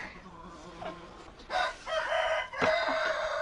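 A rooster in a wintry, snowy farmyard crows in two long, drawn-out calls, close and clear over soft background clucking from the flock.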